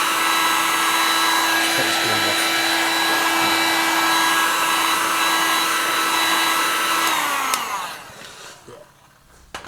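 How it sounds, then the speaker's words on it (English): A heat gun blows hot air onto the front panel metal of a Mk1 Golf during panel repair, giving a loud, steady whirring hum with a faint whine that runs continuously and then cuts off near the end. "So yeah, I'm just going to heat it up."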